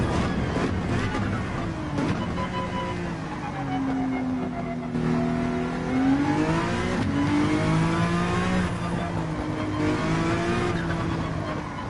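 In Gran Turismo 7, an NSX engine revs up and down as the car shifts gears on the Nürburgring, a loud, near, continuous drone with rising and falling pitch.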